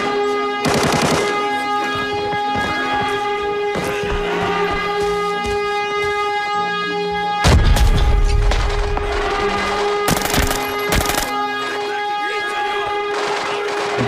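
Gunfire in the video game Arena Breakout: several sharp bursts of automatic shots, a short one early and louder clusters later, over a steady tonal game soundscape.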